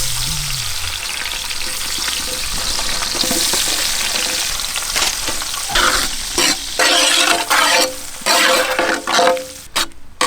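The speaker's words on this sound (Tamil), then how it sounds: "வெங்காயம் தக்காளி இந்த வெண்ணெயில் அப்படியே வேகணுமுக்கா." Onions and tomatoes fry in butter with cinnamon and cloves for a spicy lobster gravy, a loud close sizzle that later breaks into rhythmic bursts of stirring and scraping in the pan, with no voices.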